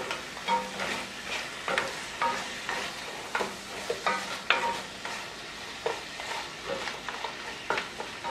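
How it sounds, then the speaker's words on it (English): Curry crab with diced tomato is stirred in a pot, with a spoon scraping and clinking in repeated strokes over a soft, constant sizzle. "Give that another quick little stir."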